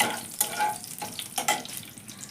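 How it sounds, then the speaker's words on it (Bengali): Spices with dried red chillies frying in a pan, a low crackling sizzle with a few scraping stirs of a spatula, close and moderate. "মশলাটাকে এবার একটু ভেজে নেব"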